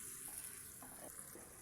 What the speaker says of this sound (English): I add some warm water for it to just to simmer a little bit with this warm water